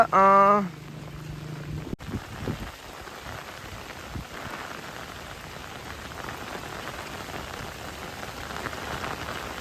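Heavy rain hisses steadily and evenly during snakehead fishing from a boat, a dense continuous downpour after a brief tonal sound at the start.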